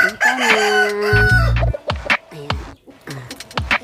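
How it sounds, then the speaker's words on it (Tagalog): Pet chickens at a farm crow loudly at close range, a long drawn-out call followed by a mix of shorter clucks and squawks. "puntahan natin ang aming mga alagang manok."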